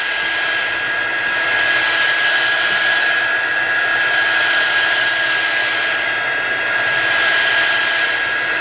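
A heat gun blows hot air onto a damaged Samsung Galaxy S5 phone frame to loosen the glue, a loud, steady whooshing roar with a high whine held close and continuous throughout.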